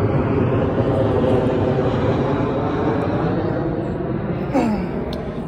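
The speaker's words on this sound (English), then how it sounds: "and plane flying over." An airplane passes overhead at a Confederate camp site being metal detected, a broad steady engine drone that holds level throughout, heard alone.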